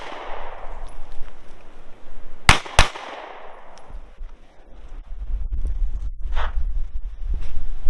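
Two sharp, loud handgun shots fired a moment apart during a timed drill on an outdoor shooting range, standing out over wind rumble and soft shuffling movement.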